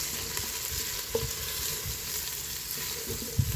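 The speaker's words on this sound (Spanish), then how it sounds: "Estamos friendo el ajo y la cebolla un poco" Soft frying sizzle of garlic and onion in a pan with a few clinks and stirring scrapes, steady and close, no voices.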